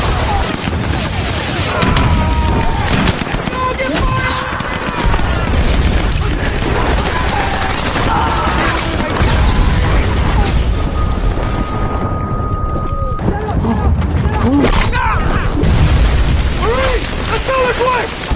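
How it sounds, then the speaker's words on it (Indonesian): Gunfire and explosions crack and boom across a WWII Pacific beach landing between American and Japanese forces, dense and loud throughout, with shouting voices mixed into the battle. "Ia tak memperdulikan tembakan-tembakan Jepang yang terus diarahkan menuju garis pantai."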